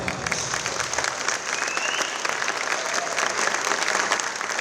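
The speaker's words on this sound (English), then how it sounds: "Let's give them one last round of applause." A crowd in a high school boys volleyball gym applauds senior players on senior night with steady, dense clapping that holds throughout.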